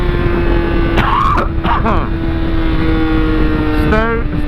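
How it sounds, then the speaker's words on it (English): A motorcycle engine drones at steady throttle through a turn, a constant loud hum with wind rumble, while someone talks over it in a few short bursts. "Listen to the noise that my bike makes."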